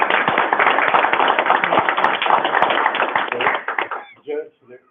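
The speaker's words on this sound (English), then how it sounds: "I'd like to give you a round of applause" Clapping from the gathering at a Bee County Commissioners Court meeting, honoring a commissioner; steady, close, fairly loud and continuous for about four seconds before tapering into a few scattered claps and a brief voice.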